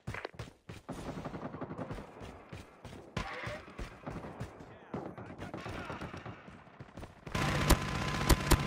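Gunfire and a deployed sentry gun in a Call of Duty team deathmatch on the Satellite map: dense, rapid automatic fire throughout, growing louder and harsher near the end, with scattered game voice callouts underneath.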